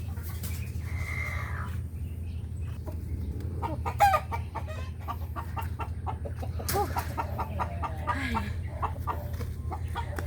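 Several mother hens cluck and murmur nearby in short, scattered calls over a steady low background hum.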